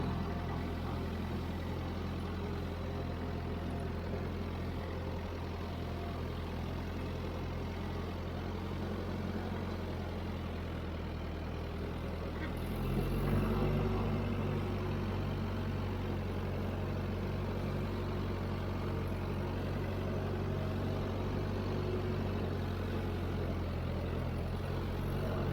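A Ford 8N tractor engine runs steadily in road gear, a low, even chugging drone that persists throughout, with a brief louder surge partway through.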